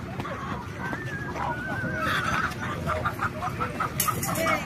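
Busy poultry market in Dois Riachos, Alagoas, Brazil, with chickens clucking and calling amid a dense crowd murmur and scattered voices, steady and fairly loud throughout.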